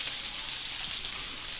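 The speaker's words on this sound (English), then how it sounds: "Now I'm frying the meatballs." Meatballs and onions frying in olive oil in a pan for Italian wedding soup, giving a steady, close hiss and crackle of sizzling fat that runs evenly throughout with no talk.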